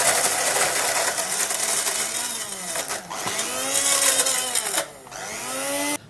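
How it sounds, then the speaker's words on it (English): A kitchen blender chopping cut onion pieces, a loud close motor whine that rises and falls in pitch as the load changes, with brief pauses near the middle and end. "Now I've cut the onion in pieces, and now we're going to blend it"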